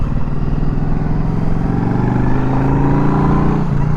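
A Yamaha Drag Star 1100 cruiser motorcycle pulls away in a loud, close, continuous V-twin rumble that rises steadily in pitch as it accelerates through the gear.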